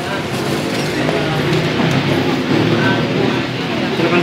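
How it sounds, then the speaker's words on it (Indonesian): A train pulling into a station platform during the Lebaran holiday travel rush, a loud steady rumble of rolling wheels and carriages filling the space while travellers talk nearby. "Kereta apinya sudah datang, teman."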